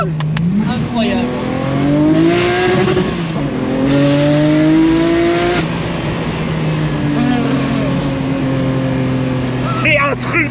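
A 1000 hp BMW 1 Series engine revs up and shifts repeatedly, pitch climbing and dropping in waves, loud and close, with someone talking over it in French.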